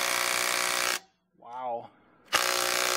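Cordless 3/8 inch impact wrench hammering at a tight bolt in two loud, sustained rattling bursts, separated by a short pause in which a voice speaks briefly.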